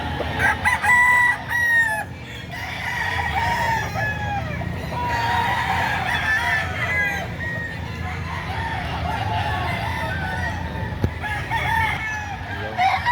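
Roosters and hens crow and cluck repeatedly against a busy outdoor market background in Lipa, Batangas, Philippines, with a loud crow at the start and murmured voices underneath.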